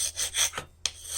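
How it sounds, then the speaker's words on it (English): A small blacksmith's scraper tool rakes light scale off hot forged steel, giving rough, rasping strokes: a few quick scrapes, a pause, then a sharp start into another scrape, close and loud. "you can get a good bit of the light scale right off of there, just by using your little scraper tool here"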